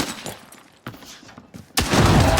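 A grenade in the shooter game Arena Breakout Infinite goes off with a sudden loud, broad blast near the end, preceded by a few sharp impacts and quieter gunfire-like cracks in the moments before.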